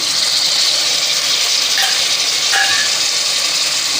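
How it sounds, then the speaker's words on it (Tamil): Chopped tomatoes fry in a pan for tomato rice, giving a loud, steady, hissing sizzle throughout, with faint scrapes from stirring and no talking. "நல்லா மசிகிற அளவுக்கு தக்காளியை வந்துட்டு நல்லா கிண்டி விட்டுக்கோங்க"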